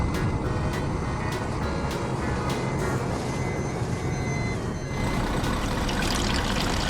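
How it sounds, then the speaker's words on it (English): A tanker truck idles with a heavy rumbling engine in a 3D vehicle game while a regular series of reversing beeps sounds over it, loud and continuous. "Tanker truck."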